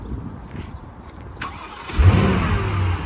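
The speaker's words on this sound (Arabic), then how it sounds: "سمعين صوت السلف ما شاء الله تبارك الله مره ناعم" A Porsche Panamera's starter motor cranks and the engine catches, settling into a smooth running hum after a quieter stretch of background noise.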